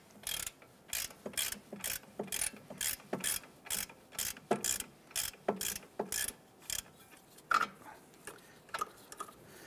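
A ratchet works strut bolts loose on a 2012-2017 Toyota Camry, giving a steady series of about twenty sharp clicking strokes at an even pace, close and fairly quiet with no speech.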